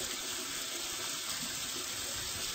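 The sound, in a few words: rinsing K-Cup coffee grounds under cold tap water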